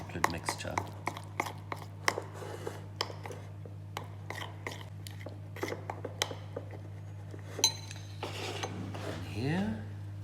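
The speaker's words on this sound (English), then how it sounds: "The egg yolk and the chocolate we're going to stir together" Egg yolk being stirred into melted chocolate in a bowl, sharp scraping clinks of a utensil against the bowl repeating irregularly over a steady low hum, with faint background voices.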